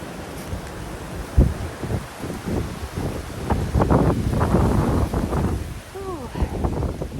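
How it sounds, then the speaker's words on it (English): Gusty Florida wind buffets outdoors in the evening, rushing and roaring against the microphone in uneven surges, with a voice and chickens audible faintly in the background. "the wind is whipping"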